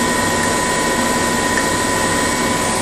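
A vehicle engine idling at reduced revs while driving an alternator charging a lithium battery gives a steady, continuous mechanical drone with a constant hum, close and fairly loud, with no speech.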